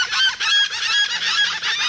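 A flock of geese at a Florida wildlife park honks loudly and continuously at close range, with many overlapping calls and no talking.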